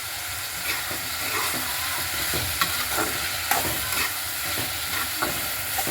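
Onion, tomato and masala fry and sizzle steadily in a pan for a bitter gourd kootu, with a continuous crackle broken by repeated stirring scrapes and clinks, close and fairly loud, with no talking.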